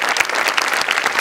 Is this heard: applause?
yes